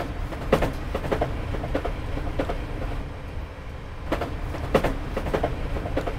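An 8-car train rumbles along the rails in the video game Train Simulator 2018, with a steady low running drone and periodic clicks of wheels over rail joints coming in small clusters, close and alone, no talking.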